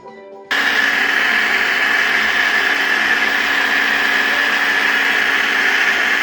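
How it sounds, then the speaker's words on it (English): A kitchen blender starts abruptly and runs at a steady, loud, high-pitched whir while blending cut apple pieces, continuing unchanged to the end with no talking. "Stuff our blender and start the blending."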